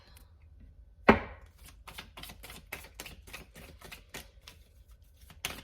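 Tarot cards are shuffled and drawn in a run of crisp, rapid taps and flicks after one sharp slap, close and fairly loud, with a single short spoken word.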